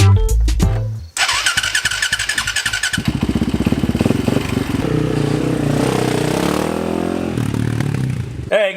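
A motorcycle with a dead battery is jump-started, and its engine cranks briefly, catches, then settles into a loud, close, steady running clatter, with voices audible near the start.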